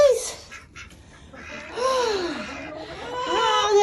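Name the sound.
ducks quacking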